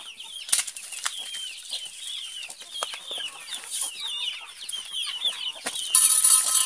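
Chickens on a small backyard farm cluck in busy, overlapping bursts, with sharp flurries of wing flapping breaking through now and then at close range.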